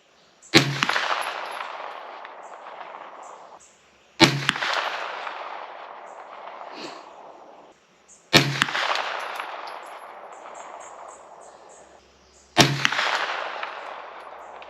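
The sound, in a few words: Aero Precision EPC 9mm gunshots at range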